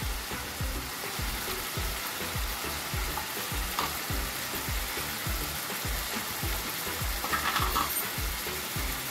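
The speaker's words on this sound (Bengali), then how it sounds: "সব মশলাগুলোকে ভালো করে মিশিয়ে নেব।" Ground cumin and coriander spices frying and being stirred in a pan for rui fish korma, a continuous close sizzle with a regular rhythmic scraping of the spoon throughout, no talking.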